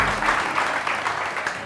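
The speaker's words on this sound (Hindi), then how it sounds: "मोना इमरान के लिए बहुत सारी तालियां" Studio audience applause on a Pakistani TV morning show, a steady wash of many hands clapping at moderate level through the whole short stretch.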